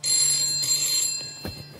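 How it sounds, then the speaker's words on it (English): A phone rings close by, steady tones through the first second or so before fading, with a few soft knocks near the end and no talking. "Oh, my phone's ringing."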